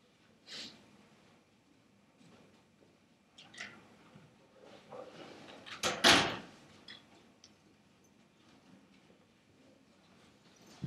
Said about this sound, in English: I might close the door over here.